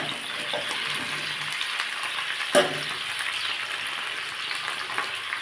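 Jujube berries hit hot oil in a pan for pickle and fry with a steady, close sizzle, broken by one sharp clatter partway through as they are stirred. Nobody speaks.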